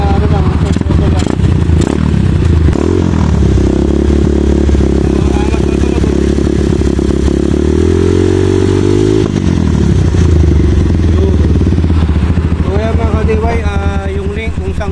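A KRY 200cc motorcycle fitted with a Power Bomb exhaust pipe revs loudly and close, a steady throbbing idle that swells into a rising rev in the middle before settling back.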